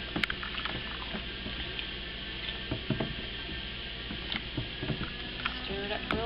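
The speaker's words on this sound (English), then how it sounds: "I'm just going to take my spoon and stir it" A spoon scrapes and clinks steadily while stirring a thickening homemade laundry soap mixture in a pot, with continuous close rattling and sloshing and no speech over it.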